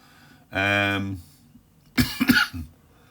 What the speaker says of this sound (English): my cough's still there